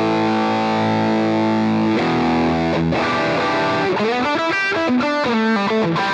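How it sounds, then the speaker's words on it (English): An electric guitar runs through a Walrus Audio EONS fuzz pedal with the gain turned up, giving a thick, saturated held chord followed by a run of distorted single notes and chord stabs, loud and up close. "Let's turn the gain up further."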